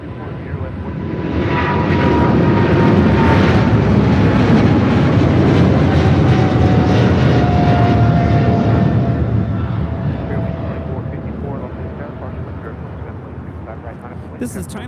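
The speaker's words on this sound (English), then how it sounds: "This is China Airlines Cargo 5382 taking off to Miami on a 777 freighter." A China Airlines Cargo Boeing 777 freighter takes off from LAX, its powerful engine roar rising over the first seconds, holding loud with a whining tone, then fading as it climbs away.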